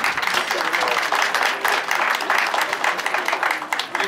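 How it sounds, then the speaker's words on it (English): An audience at a primary school opening ceremony bursts into sustained applause, many hands clapping densely and loudly throughout without a pause. "Another strong round of applause."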